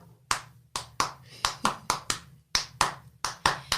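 Close, crisp hand claps in a steady rhythm, roughly a dozen sharp slaps spaced evenly, recorded near the microphone during an acoustic session.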